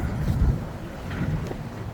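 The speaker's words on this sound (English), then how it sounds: "We are sailing." A Beneteau sailboat under sail at about 6 knots, heard as steady wind rush across the microphone with low water and hull rumble, continuous and fairly loud without pause.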